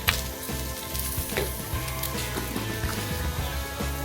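Brussels sprouts seasoned with garlic and black pepper sizzle steadily in a hot pan, a continuous crackling fry with a few soft stirring scrapes, close and fairly loud with no talking.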